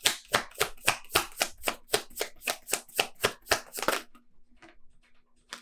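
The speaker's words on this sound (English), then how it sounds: "Okay, let's get 3 more cards here." A deck of tarot cards is riffled in a quick, even run of about fifteen crisp flutters. Softer slides and taps follow as cards are drawn, close up in a quiet room.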